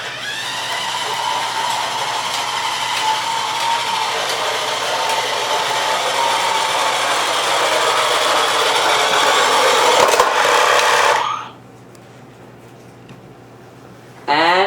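A Mattel Hot Wheels electronic motorized toy car whirs loudly and steadily up close as it performs a wheelie, the buzzing motor running for about eleven seconds before cutting off, then a brief restart at the end.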